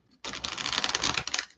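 A dense, rapid burst of crisp papery riffling from tarot cards being shuffled close up starts abruptly and runs steadily, with no talking.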